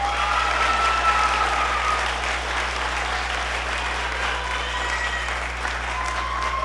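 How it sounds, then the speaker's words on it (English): Sustained audience applause fills a school band spring concert with beginning, middle school symphonic and wind symphony groups, a dense, even clapping roar from a large crowd that holds steady throughout without fading. "Give him a round of applause."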